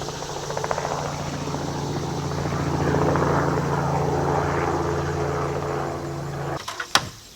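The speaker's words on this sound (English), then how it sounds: "I had to stop to shoot that helicopter" A helicopter's steady rotor drone and engine roar fill the whole stretch, loud and close overhead, with a sharp clatter near the end.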